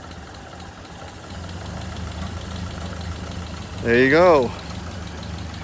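A car engine idles smoothly after its ignition timing has been advanced, a steady low rumble throughout, with a brief spoken comment rising over it near the end.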